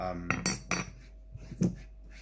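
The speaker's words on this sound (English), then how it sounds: "Turn the blade around and clean your board like that" A knife blade, turned to its blunt spine, scrapes across a chopping board while clearing fresh garlic and ginger: a few short, close scraping and clacking strokes, then quieter taps.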